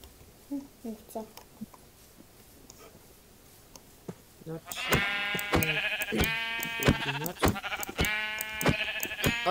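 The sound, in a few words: sheep bleating in a video game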